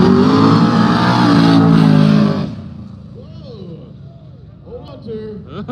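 Race cars at a no-prep drag race roar loudly as they launch, a dense engine blast that cuts off after about two seconds, leaving distant crowd noise and a commentator talking.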